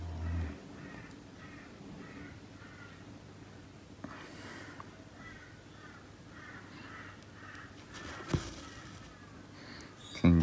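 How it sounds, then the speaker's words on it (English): Crows caw outdoors in the early morning, a string of repeated harsh calls at moderate distance over a steady low hum, with a sharper noise near the end. "Probably hear the birds in the background."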